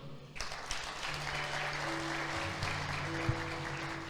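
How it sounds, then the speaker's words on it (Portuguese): Church congregation applauding together during a sermon, a steady wash of clapping from many hands that fills the room for several seconds, with musical organ-like tones sustained underneath. "Diga amém e aplauda o Senhor."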